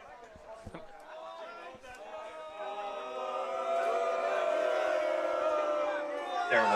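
Crowd at a men's rugby match between Ottawa and Sherbrooke, a rising roar of voices and cheering that swells and holds loud, with a commentator talking over the noise.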